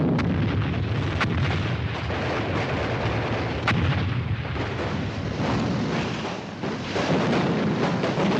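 Gunfire and artillery on a battlefield keep up a loud, dense barrage throughout, with sharp individual shots cracking out over a constant roar of firing.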